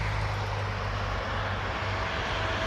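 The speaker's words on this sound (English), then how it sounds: "touchdown safely. That's an Airbus A320. That's a Transavia." Transavia Airbus A320 landing at Orly airport: a steady, broad jet engine roar with a low hum, loud and continuous throughout, heard from the airport perimeter.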